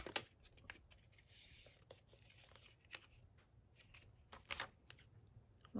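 Scissors snip at the corners of paper for a large twelve-inch junk journal folio, a quiet, close run of short scattered cuts and rustles with no talking.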